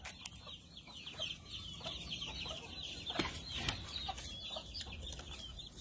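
Chicks raised without a mother hen chirp in a dense, continuous chatter of high peeps, with a few louder cheeps standing out near the middle, close by and alone.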